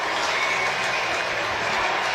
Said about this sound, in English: And the crowd at Hive come alive